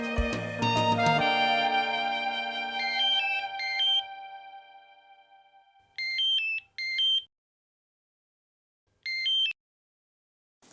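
A mobile phone ringtone starts with a loud chiming melodic burst that fades, then gives short repeated electronic tone phrases separated by silent gaps, clear and close, with no speech.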